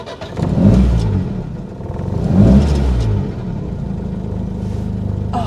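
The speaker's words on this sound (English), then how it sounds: "every time I give it a little blip on the throttle, the whole car goes like it's just as excited as me" A Fiat 1200 Cabriolet, a Pininfarina classic sports car, revs its engine in two loud throttle blips that swell and fall back to a steady idle rumble, close up with no talk.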